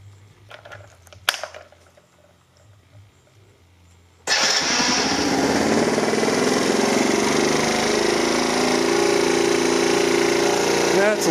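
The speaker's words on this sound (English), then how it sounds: "So now let's fire her up." A 1982 Honda C70 Passport motorcycle with a chrome muffler starts after a few quiet seconds of small handling noises, then runs loud and steady close by, its engine idling with a continuous broadband rumble to the end.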